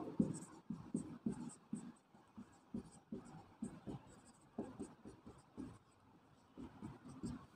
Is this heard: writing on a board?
yes